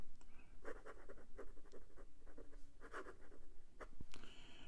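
PenBBS calligraphy fountain pen nib with a shallow architect grind scratching across paper, faint, close strokes in a quick uneven rhythm with soft pauses between lines.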